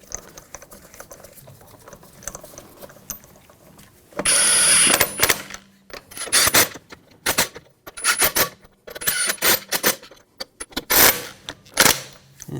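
Metal lug bolts threaded by hand to mount a front wheel on a 2000-2006 BMW X5, heard as irregular bursts of close clicking and scraping, with an initial stretch of quieter rustling.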